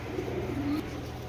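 A matched pair of imported racing pigeons from a club loft gives a soft, throaty coo, a single drawn-out rolling call near the microphone over a steady background hum.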